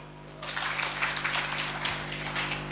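Applause from an audience gathered at a ceremony, where a chief guest is to be introduced, rising suddenly and sustained as dense, steady clapping throughout, with faint voices mixed in.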